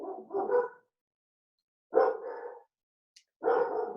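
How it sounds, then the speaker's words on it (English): Puppies barking indoors in three short bursts of yappy barks separated by silences, fairly close and moderately loud, with no talk. "Sorry about the puppies."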